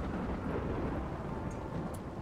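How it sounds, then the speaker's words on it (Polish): Thunderstorm in the game RimWorld: a steady, loud wash of low rumbling noise with rain-like hiss throughout, no distinct thunderclap, and no talking. "Burza z piorunami w tej chwili."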